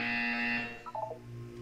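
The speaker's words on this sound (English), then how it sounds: "You will hear a buzzer." A test-chamber buzzer in the video game Portal 2 sounds as one steady electronic tone lasting about half a second, followed by a few short quieter beeps, with no talking.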